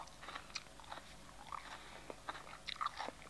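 Raw capsicum, a bell pepper, is bitten and chewed close to the mic, giving quiet, crisp crunches scattered irregularly across a few seconds with no talk.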